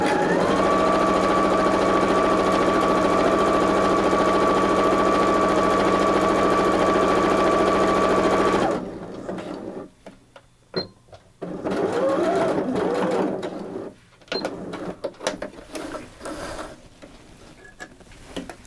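A sewing machine runs a straight stitch at full speed, a loud, steady, close mechanical whir for about nine seconds. It then stops, leaving quieter intermittent clicks and handling noises.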